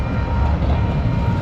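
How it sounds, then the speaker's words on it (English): A Calgary LRT light rail train passes close by outdoors, heard as a loud, steady broadband roar of wheels on track with a faint tonal whine, continuous from start to end. "for those train buffs around the world, this is Calgary's LRT"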